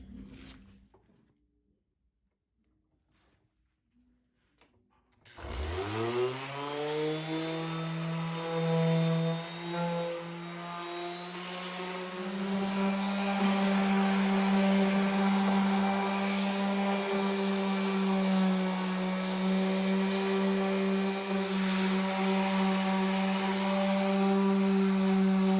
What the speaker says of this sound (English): And now it's time to sand.